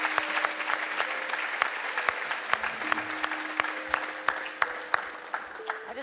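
A television talent-show audience applauds steadily in a broadcast hall, dense clapping sustained throughout with faint sustained music tones underneath, no voices standing out.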